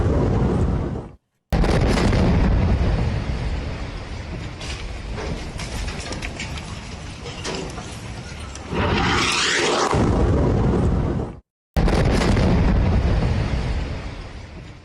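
Dense, sustained roar of bombing in Beirut, with heavy low rumble and mechanical rattling, a louder whooshing burst midway and brief silent cuts between segments.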